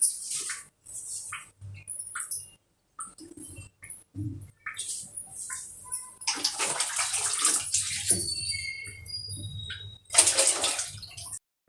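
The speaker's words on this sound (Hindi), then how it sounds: "पानी भर रही है" Water running into a bucket or tub at home, filling with a splashing rush that starts intermittently and then flows more steadily, with brief gaps and a louder surge near the end.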